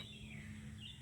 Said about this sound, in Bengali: পাখি ডাকছে কিচকিচ করে